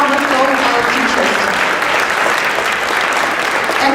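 An audience at a concert with sixteen grand pianos applauds its teachers with loud, dense, continuous clapping that lasts throughout.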